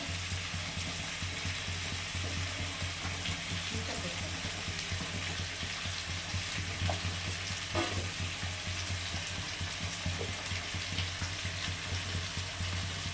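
Chicken biryani meat frying with ghee in a pot makes a constant, even sizzle and hiss with a low hum underneath and occasional faint clicks, steady throughout without talk.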